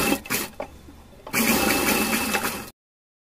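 Fabric is stitched on a sewing machine for a child's festival outfit. After a few short starts the machine settles into a steady close-up whirring run of about a second and a half.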